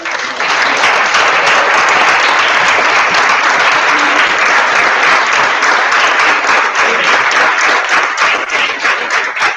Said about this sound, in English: So I will ask you to join me right now and clap for them